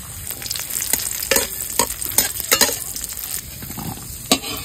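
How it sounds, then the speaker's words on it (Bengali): Raisins frying in ghee alongside cashews and cumin, a loud close crackling sizzle punctuated by frequent quick spatula stirs and scrapes against the pan. "এইবার আমি কিশমিশটা ভেজে নিচ্ছি।"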